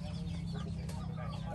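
Chickens cluck steadily near a nest in a rural Cavite yard, a continuous busy fowl chatter with a constant low hum underneath and no clear talking.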